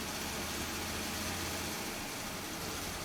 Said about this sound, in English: I just heard the engine RPM change.